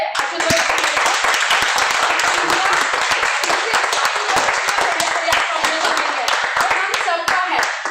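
Sharp, uneven clapping from an audience at a Sahaj Prayas Foundation core members meet, loud and close, with scattered voices running underneath throughout.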